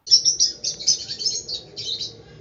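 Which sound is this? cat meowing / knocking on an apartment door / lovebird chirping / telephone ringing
lovebird chirping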